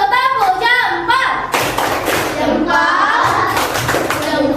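Schoolchildren in an Indonesian classroom perform a rhythmic clapping chant, sharp hand claps bursting out in quick patterns between sung and spoken children's voices, loud and close, with a teacher's voice leading.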